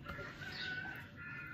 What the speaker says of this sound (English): Ooh, is it the chicken?